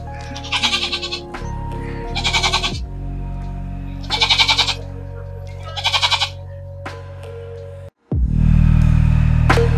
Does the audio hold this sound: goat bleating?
yes